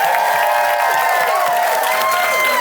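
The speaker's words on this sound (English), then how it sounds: "And another round of applause for our panel for today." An audience applauds a panel of contestants at the close of a live comedy game show; the steady clapping and crowd noise run throughout, mixed with sustained musical tones.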